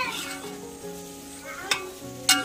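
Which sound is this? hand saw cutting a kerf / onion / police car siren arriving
onion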